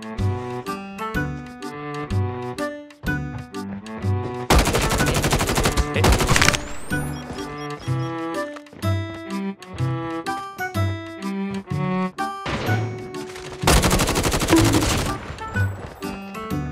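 GRAU 5.56 rifle fire in a video game, loud sustained bursts of automatic gunfire in two long stretches over a driving musical backing with a regular beat.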